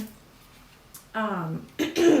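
Someone clears their throat with a couple of rough, raspy rasps, fairly close, with voiced sounds after.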